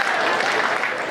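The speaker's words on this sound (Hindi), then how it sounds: "तालियां बड़ी कमजोर रह जाती हैं" A dense, steady burst of audience applause at a live comedy show, continuous, fairly loud clapping from a crowd with no pauses.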